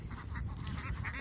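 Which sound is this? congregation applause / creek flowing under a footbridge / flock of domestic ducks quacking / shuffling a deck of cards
flock of domestic ducks quacking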